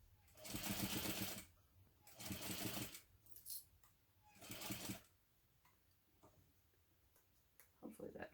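Home sewing machine stitching a zipper seam on a hobo bag, three loud bursts of rapid mechanical stitching separated by pauses, then quieter handling and a short final run.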